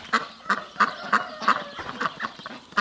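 A flock of ducks honks and quacks in a steady run of loud, close calls about every third of a second in a muddy backyard garden, with no talking.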